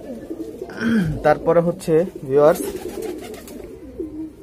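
Pigeons coo with soft, throaty, rolling calls nearby, mixed in with a person speaking.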